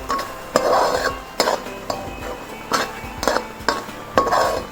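A spoon scrapes and clinks against a pan as a carrot barfi mixture with sugar is stirred, giving six or seven sharp, close knocks in an uneven rhythm, each followed by a brief scraping swirl, with no talking.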